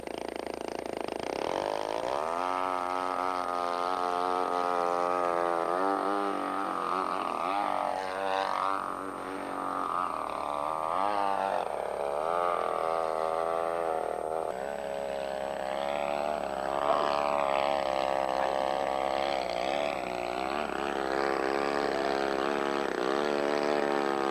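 A model airplane's propeller engine runs at about half throttle, a steady buzzing drone with a rising and falling pitch as it flies, heard continuously for a long stretch.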